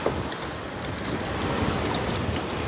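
Water runs steadily over raw chicken pieces being rinsed for a stew chicken and rice meal, a constant broadband hiss and splash with no pauses.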